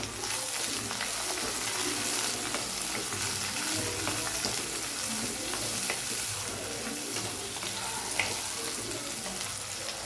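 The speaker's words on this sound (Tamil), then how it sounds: "இப்போ நான் எடுத்து வச்சுருக்க சின்ன வெங்காயம், வரமிளகாய் போட்டுக்கிறேன். கூடவே கருவேப்பிலையும் போட்டுக்கிறேங்க." Shallots, dried red chillies and curry leaves sauté in oil for a tomato bhaji kadayal, filling the stretch with a dense, continuous sizzle and crackle, mixed with irregular stirring clatter close at hand.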